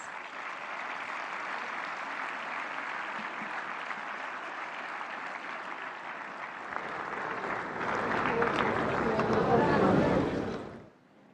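A large audience at the India AI Impact Summit at Bharat Mandapam applauds to welcome the Prime Minister, a sustained wash of clapping that swells toward the end and then stops abruptly.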